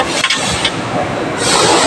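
An engine runs close by on a Suburban, a loud and steady mid-pitched drone with a brief knock near the start and a brighter rush of noise late in the clip.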